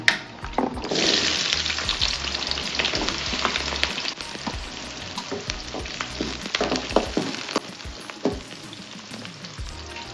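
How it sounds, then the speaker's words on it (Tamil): Chopped shallots dropped into hot oil with fried fenugreek seeds for a Tamil viral fish curry, a loud burst of sizzling that settles into a steady crackling fry with occasional stirring clicks from the pan. "சின்ன வெங்காயம் ஒரு 1/4 கிலோ போல் அரிஞ்சு வச்சுருக்கேன். இதை சேர்த்துக்கிறேன்."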